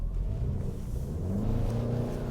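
A 2023 Toyota RAV4 hybrid's gas engine gives a steady, buzzy drone with a low rumble, rising slightly in pitch as it revs, fairly loud and continuous with no talking.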